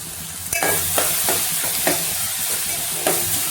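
Food fries in oil over a low flame, with a steady soft sizzle and several sharper stirring scrapes spaced through it, close by and with no talking.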